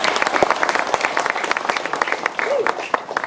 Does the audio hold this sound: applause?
yes